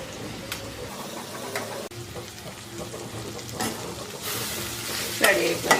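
Sliced ivy gourd fries in a pan with chilli powder and salt, sizzling softly under a spatula's scraping strokes. Clicks and clatter come up close, and the stirring grows busier toward the end.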